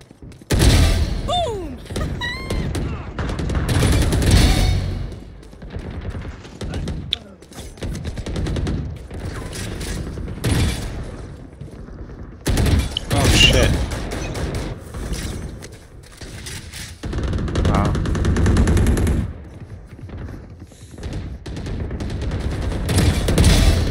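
Gunfire from the game Valorant comes in loud, repeated bursts and rapid volleys, broken by short quieter gaps, with some speech.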